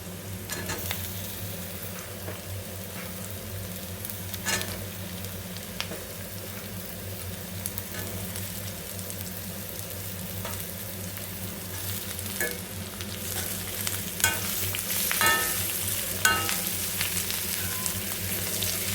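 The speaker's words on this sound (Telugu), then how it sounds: "ఇలా ఆనియన్స్ ఫ్రై అయిన తర్వాత మనం స్క్వీజ్ చేసుకొని పీసెస్ వేసుకున్న కాకరకాయ పీసెస్ యాడ్ చేసుకోవాలి." Pieces of bitter gourd fry with onions in hot oil, a continuous close sizzle with crackling spatter and occasional scraping stirs, steady throughout and slightly louder toward the end, with no voices.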